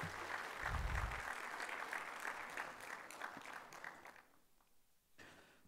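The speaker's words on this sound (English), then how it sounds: "A round of applause for all the ladies sitting there." Audience applause for the women at a tax seminar, a quiet burst of clapping from a seated crowd that fades out toward the end, with a brief thump near the start.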